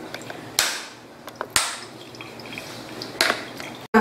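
Water drains from a homemade separating funnel in a series of sharp drips and splashes, a few distinct impacts spaced across a quiet background.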